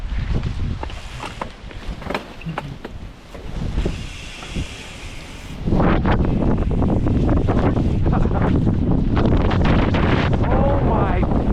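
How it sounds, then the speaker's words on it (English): Strong gusting wind buffets the microphone during a rainy mountain bike ride on the Valhalla trail near Los Angeles, the roar swelling sharply louder halfway through and staying constant, with voices mixed in. "the wind is so gnarly"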